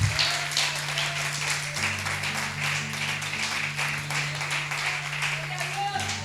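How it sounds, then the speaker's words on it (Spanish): A church congregation applauds loudly, a dense continuous burst of many hands clapping with a steady low hum beneath, lasting throughout with no pause. "Dele un aplauso fuerte a Dios."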